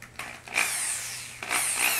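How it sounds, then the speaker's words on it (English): A power drill drives screws into wood while a freestanding slackline frame is built. Two close whirring bursts are separated by a short pause, with no talking. "getting these screws in without having them go sideways is to push it into the wood using the way of the drill"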